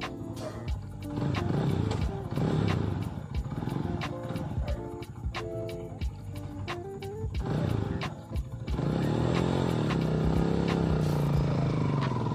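A 250cc motorcycle fitted with a sidecar runs nearby with a loud, rough rumble that swells with throttle changes and settles back, while a voice talks over it.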